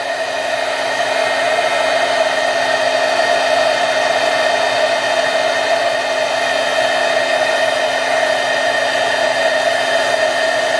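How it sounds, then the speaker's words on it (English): A heat tool used for embossing blows continuously with a steady, loud whirring hiss throughout, alone with no talk. "Let me reach for my heat tool, and we're going to emboss this."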